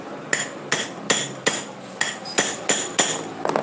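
Hammer blows on a pair of scissors to tighten the loose pivot, about eight sharp metallic strikes at a steady rhythm, close and fairly loud, each ringing briefly before the next, with no talk.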